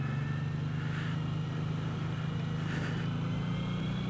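Suzuki Boulevard M109 BOSS motorcycle engine idling with a low, steady throb, given two light blips of throttle that rise briefly and fall back, moderately close.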